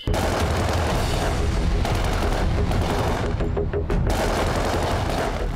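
Rapid bursts of gunfire crackle continuously over a dense, loud background, with sharp repeated reports and a brief lull before the shooting resumes, depicting an attack on people in Pahalgam's Baisaran valley.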